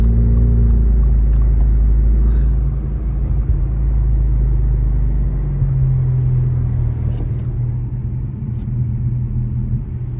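A FedEx delivery truck rolls past on a snowy mountain road in Big Bear Valley, a loud steady low engine rumble and tire drone heard from inside a nearby vehicle, continuous throughout.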